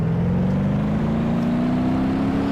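In BeamNG.drive, a Gavril Barstow car accelerates: a loud, continuous engine drone climbs steadily in pitch, smooth and unbroken over a few seconds.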